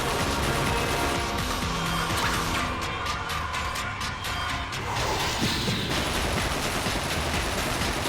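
Gunfire from the Berserker gun during a boss fight in The 3rd Birthday, a dense rapid fusillade of shots with crashing impacts, loud and continuous over game noise.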